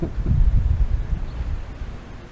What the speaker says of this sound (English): Getting pretty windy.